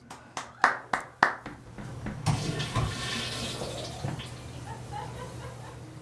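A toilet flush performed live as Yoko Ono's Flush Piece in a radio studio. Several sharp claps come first, then a loud close rush of flushing water that gurgles and fades.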